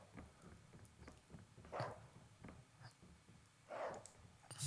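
Snarling, barking dog attacking the player in a first-person shooter game, with a few short growling bursts at intervals over faint background sound.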